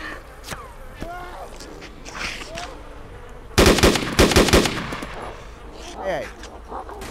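Gunfire in the survival game DayZ, at Elektrozavodsk: a loud, close burst of rapid shots in the middle, set against quieter ambient sounds, with a brief sharp crack early on and voices talking at times.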